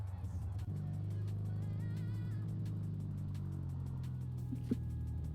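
Toyota A90 Supra engine idling on the start line in a racing game, with a steady low droning idle and faint shifting tones, and a voice talking over it throughout.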